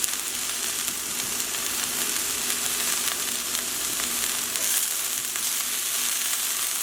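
Steaks frying in a pan over a medium flame give a steady, loud, broadband sizzle that holds evenly throughout without any talk.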